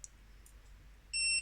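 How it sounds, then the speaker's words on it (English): A KSGER soldering station gives a single short electronic beep once it has finished heating up, a clear high tone near the end of an otherwise quiet moment. "So you can hear a beep"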